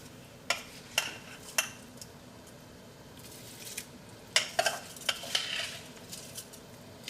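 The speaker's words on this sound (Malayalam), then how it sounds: "ഇതിലേക്ക് നമുക്ക് അരി ചേർക്കാം." Rice poured into boiling water in a pot for tomato rice and stirred: sharp metallic clinks and scrapes of a spoon against the pot come at irregular intervals over a soft bubbling background, close by.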